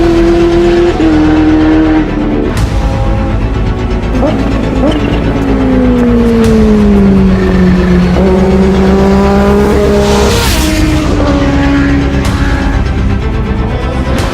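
Supercharged Kawasaki Ninja H2 motorcycle accelerating hard, loud engine howl climbing through gears with clear shift drops and rising pitch sweeps, close and dominant throughout.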